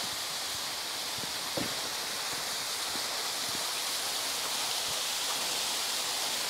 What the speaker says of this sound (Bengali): তাহলে একটু ঝর্ণার শব্দটা উপভোগ করুন।